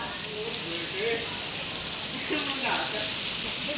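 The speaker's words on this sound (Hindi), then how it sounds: "बारिश काफ़ी तेज़ है आज यार" Heavy rain mixed with hail pours down outdoors in Bharatpur, a dense, steady hiss that fills the whole clip, with faint voices murmuring underneath.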